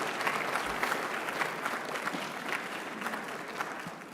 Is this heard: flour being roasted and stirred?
no